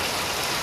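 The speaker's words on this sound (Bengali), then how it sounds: "এদিকে বৃষ্টি, ঝাপা বৃষ্টি নামছে" Heavy rain pours down in a village, a dense, even hiss that fills the short moment with no break and no voices.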